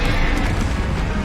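A Confringo fire spell blast booms in Hogwarts Legacy, a dense, loud, rumbling burst of noise that fills the whole brief moment without talk.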